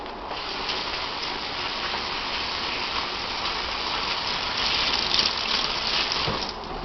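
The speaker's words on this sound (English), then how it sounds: "after you touch raw meat, you always have to wash your hands." Hands being washed under a running kitchen tap after handling raw chicken, a steady close rush of water that swells slightly toward the end, with no talking.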